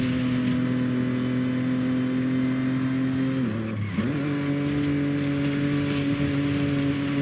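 A car engine in the video game Forza Horizon 5 drones at high revs, dipping briefly as it shifts or slows, then climbing back to a sustained strained whine.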